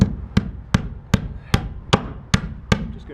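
A hammer tacking a nail into a wooden wall stud while framing a house, eight sharp evenly spaced blows ringing close and loud, with no talking.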